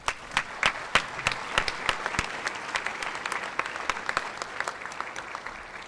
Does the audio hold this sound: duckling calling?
no